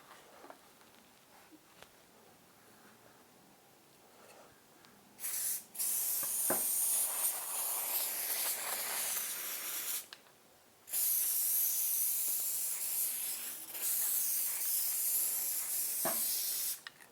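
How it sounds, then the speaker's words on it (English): An aerosol spray can sprays onto a scrap-wood car window camera mount in two long, loud hissing bursts with a short pause between, preceded by quiet handling noises. "And we're going to go ahead and spray that"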